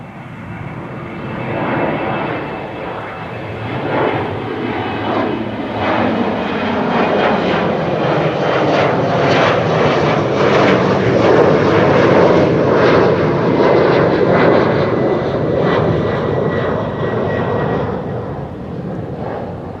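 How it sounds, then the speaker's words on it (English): A KLM Embraer 190 jet airliner takes off at Amsterdam Schiphol, its engines giving a loud, sustained roar that swells and holds across the whole stretch, heard from the ground nearby. "KLM flight 983 to London City and Embraer 190 already airborne."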